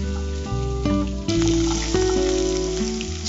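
Mustard seeds popping and small shallots sizzling in hot oil in a pan, a dense continuous fry with sharp crackles and a few louder bursts as onions hit the oil, close and loud with no talk.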